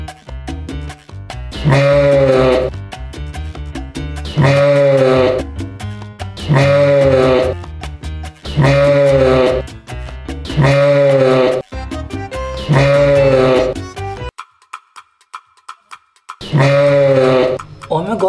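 A goat bleats loudly and repeatedly at close range, with long wavering cries coming in a regular rhythm and one brief quiet gap.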